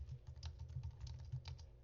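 Quiet typing on a computer keyboard, a quick uneven run of soft key clicks close by, with no voices.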